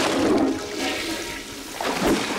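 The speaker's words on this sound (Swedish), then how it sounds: "Varför spolar du toaletten hela tiden?" A cartoon toilet flushes with a loud, close rush of swirling water that swells again near the end, with no talking.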